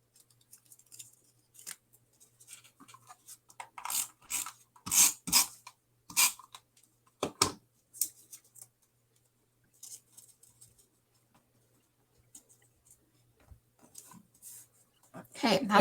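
Scissors snipping through decorative paper scrapbooking borders, a series of crisp close cuts in bursts with quiet pauses between, under occasional soft talk.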